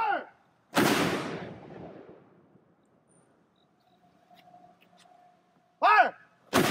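An 18th-century mortar fires with a sharp, loud boom and a long rolling decay, then quiet, then further loud blasts near the end as a voice shouts commands.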